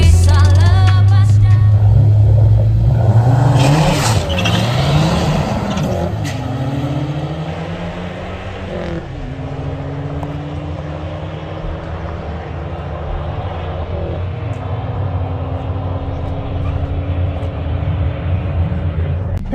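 Subaru WRX with a Stage 1 tune launching down a drag strip, loud engine roar rising through several gear changes and pulling steadily away for most of the run.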